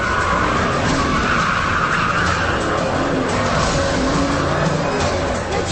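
A 1,000-horsepower Bugatti EB Veyron rounds a hairpin in first gear, a steady loud engine roar with a continuous tire squeal layered over it for several seconds, close and without pause.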